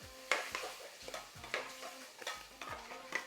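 Chicken tikka is stirred into sizzling masala sauce in a pan, with rhythmic scraping stirs every half second or so over a steady close sizzle.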